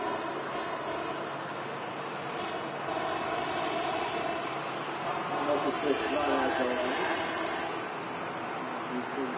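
An Airbus A380 touching down at Manchester Airport, heard as a broad, steady roar of engines and rushing air that swells slightly midway, with people talking over it.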